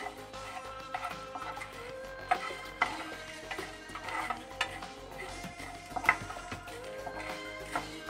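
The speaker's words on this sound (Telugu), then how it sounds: "జీలకర్ర, ఎండుమిర్చి ఇవన్నీ ఇప్పుడు లో ఫ్లేమ్లో అలాగా ఫ్రై అవనిద్దామండి" Cumin seeds and dried red chillies gently frying in a pan on a low flame for Odisha-style dalma, a soft sizzle broken by repeated scrapes and clinks of a spoon stirring against the metal.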